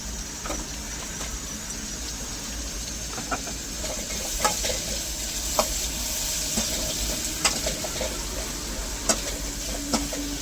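Onions sauté in a pan with salt and turmeric, giving a steady close sizzle with repeated scraping stir strokes and sharp utensil clicks throughout.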